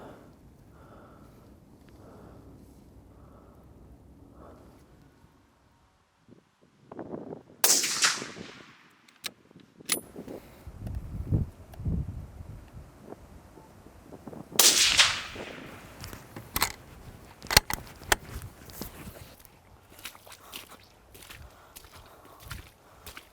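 A hunting rifle is fired at a target 100 metres away while being zeroed outdoors: two loud, sharp cracks about seven seconds apart, separated by quiet handling, rustling and shuffling movement.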